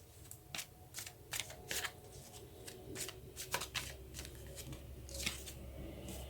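Tarot cards shuffled by hand close up, with repeated crisp riffling and flicking bursts in an uneven rhythm and soft handling noises between them.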